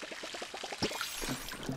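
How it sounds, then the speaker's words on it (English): A watering can in the Palia farming game pours onto crops: a quick run of soft rhythmic gurgles, then a few wetter splashes, close and gentle with no talking. "I love the sound of the water coming out of the watering can"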